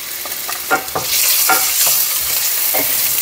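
Potatoes and carrots frying in a pan give a loud, steady sizzle, broken by several sharp stirring and scraping knocks, close up and without talk.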